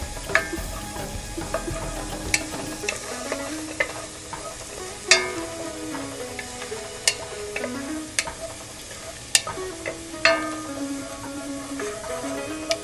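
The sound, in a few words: stirring food sizzling in a pan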